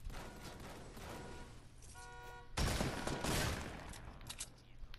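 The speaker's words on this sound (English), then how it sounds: "I hear Jaybird getting shot at" Gunfire in the Fortnite video game crackles in rapid bursts at moderate distance, with a louder volley midway through, set against game ambience and brief electronic tones.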